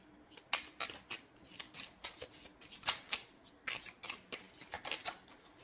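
A deck of tarot cards being shuffled, with a quick series of crisp riffling flicks and snaps in an uneven rhythm, close and fairly quiet, with no voices.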